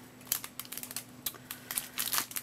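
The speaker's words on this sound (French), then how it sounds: "toujours avec les ciseaux" Scissors cutting open a Japanese Pokémon card booster pack, a quick run of close, crisp snips and crinkling foil wrapper sounds in irregular bursts, with no talking.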